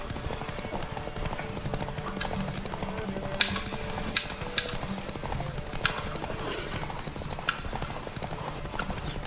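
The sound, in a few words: horse galloping in a video game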